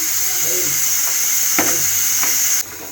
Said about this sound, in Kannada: ಇವಾಗ ಚಿಕನ್ನು ಮತ್ತು ಮಸಾಲ ಚೆನ್ನಾಗಿ ಮಿಕ್ಸ್ ಆಗಿ ಫ್ರೈ ಆಗ್ತಾ ಇದೆ